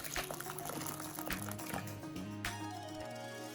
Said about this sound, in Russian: Рис заливаем горячей водой, градусов 60, и убираем в сторону минут на 20.